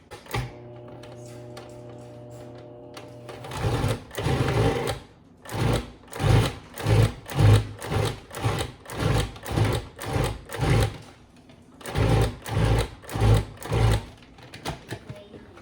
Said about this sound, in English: Now as this blends, it'll get more elastic. You want it to be pulling away from the sides of the food processor.